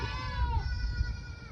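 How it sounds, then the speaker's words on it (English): A billy goat on a farm at feeding time gives a loud, near bleat with wavering pitch, over a low rumble of background noise. "There's Billy Goat."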